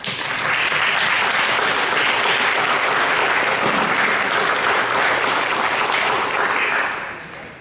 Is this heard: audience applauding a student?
yes